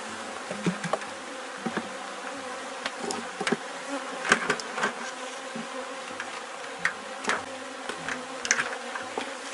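A steady buzzing swarm of honeybees around a hive being closed up, continuous close droning with scattered faint clicks and knocks from handling the hive, no voices.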